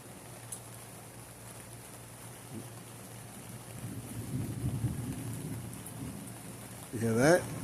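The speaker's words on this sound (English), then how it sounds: "Lightning again, and you'll hear thunder in a minute." A thunderstorm with rain brings a soft, steady patter and a low, distant rumble of thunder swelling in the middle, before a voice briefly speaks at the end.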